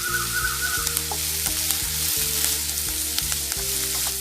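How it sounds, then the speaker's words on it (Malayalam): Sliced onions with ginger and curry leaves sauté in a pan for a Kerala potato stew, giving a steady close sizzle with occasional clicks from stirring. "ഒരു 3/4 ലെവലിൽ സവാള ഇതൊക്കെ മൂപ്പിക്കണം."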